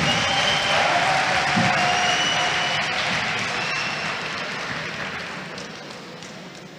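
At a diploma ceremony for a first graduating class in care studies, the audience applauds a graduate with steady clapping and faint cheers that slowly fade.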